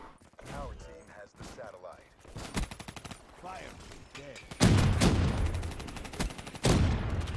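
Gunfire in a shooter game: bursts of rapid automatic fire and single sharp shots, growing louder and denser in the second half, with players talking in between.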